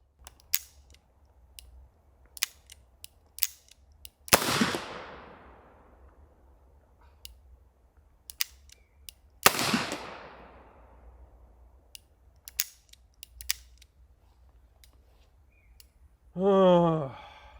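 A black powder double-action revolver fires two sharp, loud shots several seconds apart, with scattered mechanical clicks of the action between them in a quiet setting, and a brief voice-like sound at the end.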